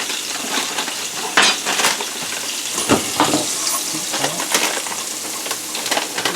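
Garlic fries in a hot pan, a continuous crackling sizzle with occasional stirring clinks and scrapes close by, no voices.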